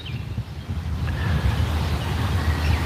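Outdoor wind on a grey, gloomy day buffets the microphone as a steady low roar, loud and continuous with slight gusting swells and no voices.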